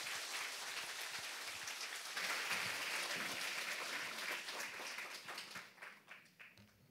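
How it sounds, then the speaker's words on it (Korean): A church congregation at a Sunday service applauds a high school scholarship recipient with dense, sustained clapping that thins out and fades over the final second or so. "돌아서서 우리 교우들에게 한번 인사할 때 큰 박수 해주시면 감사하겠습니다"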